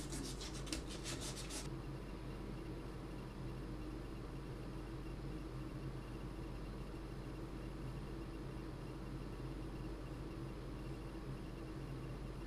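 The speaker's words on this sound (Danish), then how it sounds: "så den kan vi også lige få væk her med sandpapir" A handmade wooden jerkbait fishing lure is sanded with sandpaper: a quick run of close, rasping strokes at the start, then a steady soft hiss.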